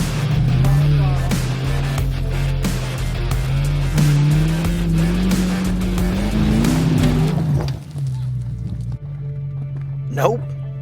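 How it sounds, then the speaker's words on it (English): An off-road vehicle on a dirt trail at Rowher Flats in Southern California, its engine held loud and steady at high revs while it climbs, with people talking over it before the throttle drops away near the end. "Keep on the throttle."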